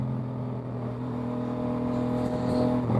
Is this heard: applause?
no